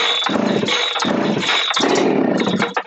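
A chainsaw engine is pulled and fired up after choking, giving a loud, close, sputtering two-stroke roar that surges and dips in uneven bursts before cutting off.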